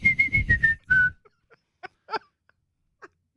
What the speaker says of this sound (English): Then not just sing it, whistle it.